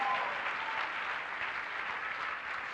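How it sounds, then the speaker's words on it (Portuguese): A church congregation claps during a Portuguese-language family worship service, a soft, even wash of applause that sounds distant and continues without a break. "Alguém vai aplaudir Jesus?"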